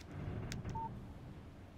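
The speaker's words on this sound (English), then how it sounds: "Text message from Barry." A short, faint electronic beep from a phone text message alert in the Alan Wake video game, heard once over a quiet low ambient background.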